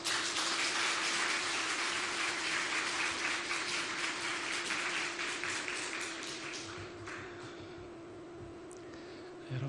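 A church congregation at a Korean Sunday service applauds to welcome the preacher, a loud, dense burst of clapping that thins and fades over the last few seconds.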